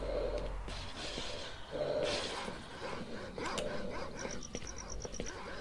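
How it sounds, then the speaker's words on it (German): Several dogs barking in the video game Stalker, with a few yips and snorts in the distance, spread across the clip over game ambience and faint background noise. "da hinten sind aber schöne viele Hunde"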